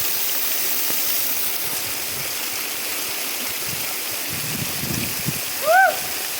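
Steady broadband rush of Pogilla Waterfalls fills the whole clip, constant and close, with a brief bird-like chirp near the end.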